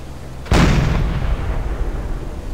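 A submarine deck gun fires a single loud, sharp shot in Silent Hunter 4, a naval combat game, followed by a long decaying rumble and tail, with no voices over it.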